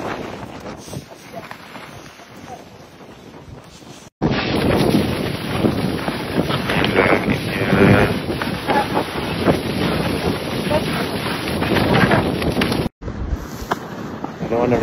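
Strong wind roars across the microphone near the summit of Mount Sindoro in Indonesia, a loud, continuous buffeting with brief cutouts, while people talk faintly.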